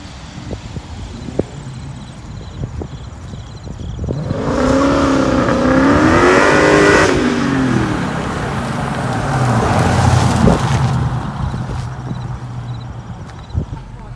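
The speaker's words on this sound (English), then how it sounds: "Wow, that exhaust setup you have is insane." Supercharged 5.7L Hemi with an Edelbrock E-Force blower and loud aftermarket exhaust revs up twice, rising and falling close by, between quieter idle stretches.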